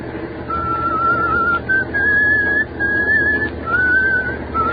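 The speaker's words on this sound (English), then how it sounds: "if you got a whistle, at least change that tune" A person whistles a wavering tune in long sustained notes with brief breaks between phrases, loud and close over a low background rumble.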